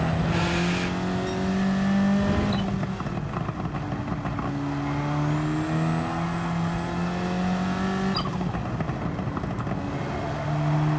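A race car engine in Gran Turismo 7 holds a high, steady whine in 4th gear, its pitch climbing and then dropping at two gear changes, loud and continuous with no voices.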